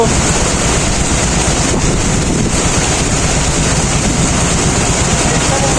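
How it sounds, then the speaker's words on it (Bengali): A heavy storm blowing across the river mouth at Katka in the Sundarbans, with loud, constant wind roar buffeting the microphone and a rushing water-and-rain wash beneath it. "এখানে তিন নম্বর সিগন্যালের বদলাতে প্রচুর ঝড় বৃষ্টি হচ্ছে"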